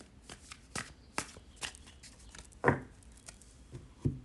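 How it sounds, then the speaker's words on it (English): Several quick riffling bursts of tarot cards being shuffled close by, with short pauses between and a couple of soft taps as the deck is squared. "let's see what the tarot wants to say. Let's give it a couple of shuffles."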